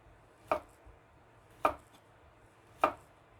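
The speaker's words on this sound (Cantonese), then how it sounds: "咁我哋攞嚟切絲" Three crisp knife chops through a radish into strips on a cutting board, evenly spaced about a second apart, close and distinct against a quiet background.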